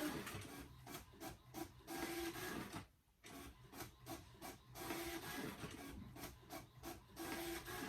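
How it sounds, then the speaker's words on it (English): A label printer runs in continuous mechanical bursts, printing shipping labels with steady whirring and rasping feed sounds and a brief pause partway through. "I'm going to go in and make sure that I'm changing it to our label printer as opposed to the big printer in the bottom. And then your labels turn out."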